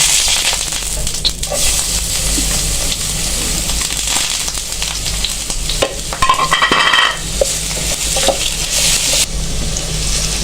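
Loud, steady sizzling of garlic frying in hot oil fills the whole clip, with occasional stirring scrapes and pops up close.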